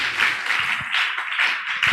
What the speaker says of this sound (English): Somebody clap your hand for intelligence.